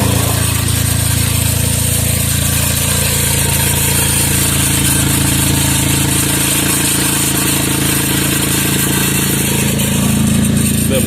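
A car engine runs with a broken exhaust bracket, giving a loud, constant droning rumble close by that never lets up.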